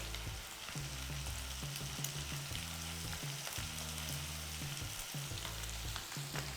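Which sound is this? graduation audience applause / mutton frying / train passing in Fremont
mutton frying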